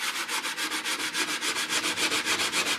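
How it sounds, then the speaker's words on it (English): Rhythmic hand sanding with sandpaper on the body kit of a Datsun Sunny, steady back-and-forth strokes repeating about six times a second, close and fairly loud, with no talking. "now I'm pretty much just kind of sanding it"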